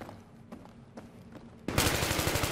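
Battlefield 3 video game gunfire: a few faint shots early on, then a sudden loud burst of rapid automatic fire close by.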